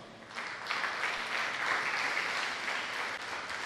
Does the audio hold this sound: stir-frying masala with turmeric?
no